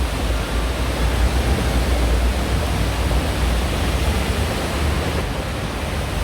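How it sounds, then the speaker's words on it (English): Heavy thunderstorm rain pours down on Sukhumvit Road near Phrom Phong in Bangkok, a dense, loud, unbroken roaring hiss with no voices. "This is the first real big rain that we had this year."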